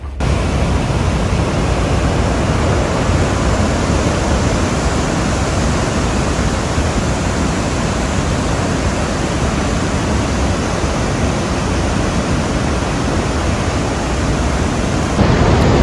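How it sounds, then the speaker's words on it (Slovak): Victoria Falls in Africa roars as a massive waterfall, a dense, unbroken wash of rushing, thundering water that stays steady and loud from start to finish, with no voices. "Takže Viktoríne vodopády, nazývané aj dym, ktorý hrmí, je to ich pôvodný názov."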